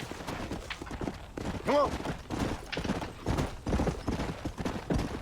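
Horse hooves clip-clop steadily on the ground in the Red Dead Redemption video game, with a brief whinny partway through and voices speaking over the footsteps.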